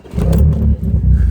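A 1997 BMW Z3 engine cranks and catches, then settles into a loud, steady rumble close by, with a brief dip before the running continues.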